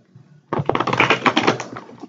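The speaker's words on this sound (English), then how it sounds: "I'm going to just start shuffling for the Divine Masculine." Tarot cards shuffled by hand in rapid, crisp riffling and clicking bursts, close and fairly loud, running steadily for about a second and a half after a quiet start.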